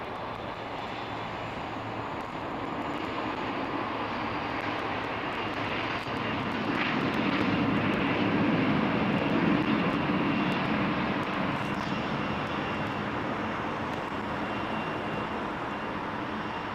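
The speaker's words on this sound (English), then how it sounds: "beautiful ANA triple. Still got his reversers on at that length." An ANA Boeing 777 with GE90 engines landing on runway 09L at Heathrow, its reverse thrust a loud sustained roar that swells midway and then holds steady, fairly close.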